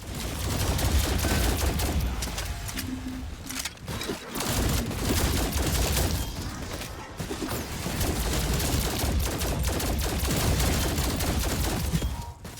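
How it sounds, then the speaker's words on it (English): Sustained gunfire from the Cerberus weapon while shooting zombies in Call of Duty Cold War Zombies, a dense, loud volley of shots and booms running almost continuously without any talk. "Just listen to all the sounds, like when you're killing zombies or when you're shooting the Cerberus."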